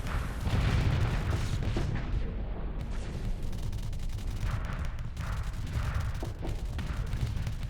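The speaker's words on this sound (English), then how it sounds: "That's a lot of fucking missiles this Sakura has." A Sakura launches salvo after salvo of missiles in a video game battle, a dense, continuous barrage of booming launches and rumble at steady loudness, with no clear talk over it.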